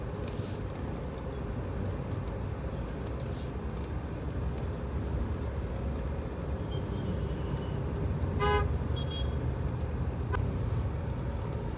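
Dense traffic jam in the Pen market area, with a steady wash of idling engines and road noise, a short car horn toot cutting through near the middle and a fainter honk later.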